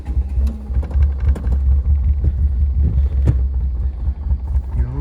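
A four-wheel-drive vehicle hauling a Corolla on a 5x10 trailer strains in low gear, its engine a steady, heavy rumble close by over rocky ground, with scattered bumps and knocks and a bit of wind, no talking.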